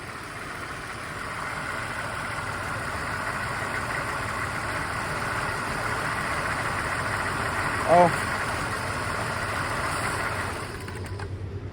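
A car engine idles steadily in a lab, a constant low mechanical hum running throughout with a brief louder blip near the end.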